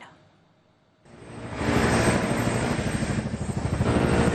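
A military helicopter at the Fort Bragg base in North Carolina surges in abruptly and holds a loud, steady rotor and engine roar with a faint rhythmic beat, close by.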